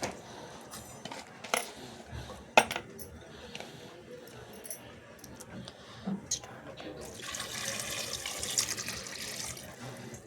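Water runs steadily into a cooking pot holding spinach and mixed dal, a soft continuous splash with occasional clinks of utensils, fairly quiet and building toward the end.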